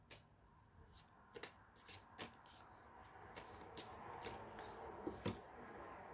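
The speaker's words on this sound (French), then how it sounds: "Je vais tirer quelques cartes et on va voir." Tarot cards are shuffled by hand in a quiet room, a series of soft, crisp riffling slaps spaced irregularly over a faint background.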